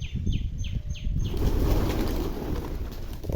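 A few quick chirps, then a burst of flapping wings as pigeons take off, over a rumbling outdoor wind background.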